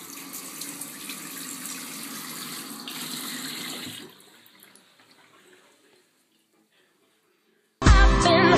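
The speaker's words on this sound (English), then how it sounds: "This time how we really wash our face." Tap water runs steadily into a sink while a face is washed, then fades out and goes quiet before a loud burst of sound returns at the end.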